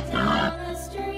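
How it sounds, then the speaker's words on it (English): A pig lets out one short, rough grunt, close and moderately loud, followed by quieter background. "Pig."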